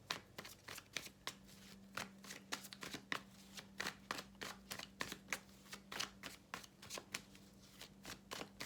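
Tarot cards being shuffled and drawn by hand, a quick irregular run of crisp riffles and slaps, close and quiet, continuing steadily with no talk.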